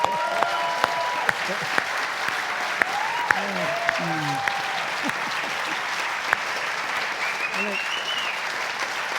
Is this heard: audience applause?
yes